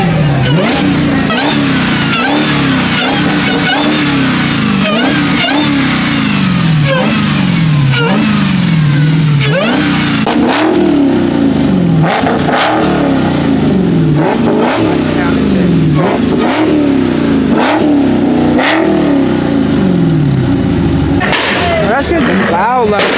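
A supercharged car engine at a car meet revs hard in repeated rising and falling surges, loud and close, with sharp pops and voices talking over it.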